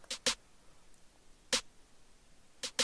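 A basic grime-style trap drum pattern made in FL Studio 12 plays dry without effects: sharp isolated hits in a sparse, uneven rhythm, each short and punchy, with near silence between them.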